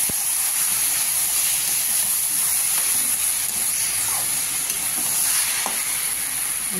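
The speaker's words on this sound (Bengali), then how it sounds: "একটু জল দিয়ে দিচ্ছি কষার জন্য।" Sizzling masala for moong dal khichuri hisses and crackles steadily in the pan after water is added, a close, continuous frying sound with no voices over it.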